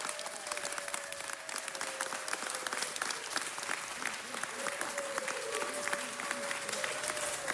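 Sustained applause fills a city council meeting chamber, a thick wash of many hands clapping at an even level, with a faint tone and scattered voices beneath it.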